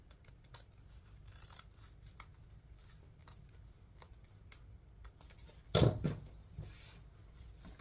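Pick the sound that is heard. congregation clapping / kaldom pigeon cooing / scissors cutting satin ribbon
scissors cutting satin ribbon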